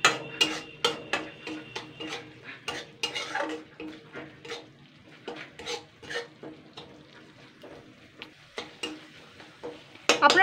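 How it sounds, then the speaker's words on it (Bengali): A spoon stirs spices, salt and Kashmiri chilli powder around a pan, giving a series of sharp metallic scrapes and clinks in an uneven rhythm over a faint low sizzle, close and fairly loud. "এগুলোকে একটুখানি নাড়াচাড়া করে নেব।"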